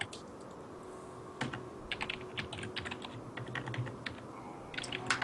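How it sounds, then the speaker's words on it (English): Rapid clacky keystrokes from a mechanical keyboard, close by and steady, over a faint background hum with no speech. "I have a loud keyboard now."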